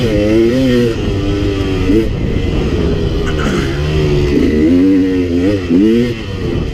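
KTM 300 XC two-stroke dirt bike engine revving hard in third gear on a trail, a steady, loud, buzzing drone with rising and falling pitch sweeps throughout.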